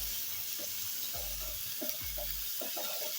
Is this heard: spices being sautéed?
yes